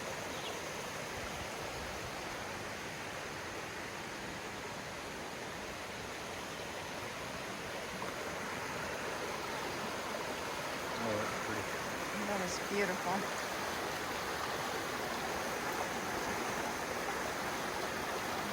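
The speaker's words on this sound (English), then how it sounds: "The trail just winds down around this river." A river flowing beside the Maunawili Falls trail in Hawaii gives a steady, broad rush of water that continues unbroken throughout, with a quiet voice speaking briefly over it.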